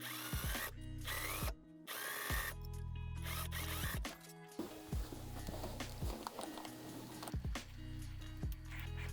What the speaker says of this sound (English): I'm gonna overlock them and iron them towards the back.